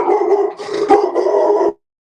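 Nino, a dog at home, lets out a loud, close bark that stretches into a growling, howling yowl for under two seconds, then stops dead.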